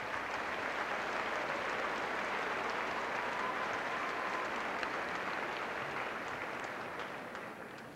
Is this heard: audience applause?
yes